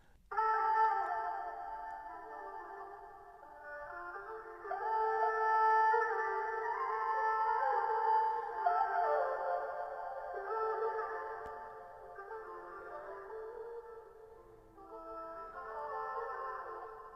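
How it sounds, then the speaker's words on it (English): A muffled, filtered vocal sings drawn-out notes that blur into a long, washy reverb tail, rising and fading without any beat underneath. "Here's what the vocal sample filtered sounds like."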